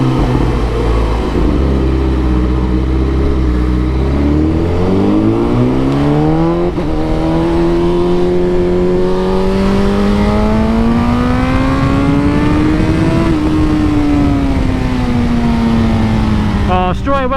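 A superbike engine revving hard on a racetrack, loud and close, climbing through rising pitch sweeps and sustained high-rev howls with a few gear shifts, droning continuously throughout.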